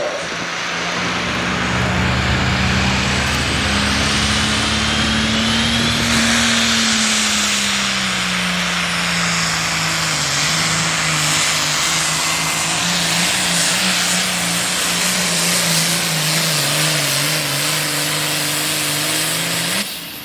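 A hot farm tractor roars at full throttle during a tractor pull at a county youth fair in West Virginia, a loud sustained drone whose pitch slowly rises and falls for the whole stretch.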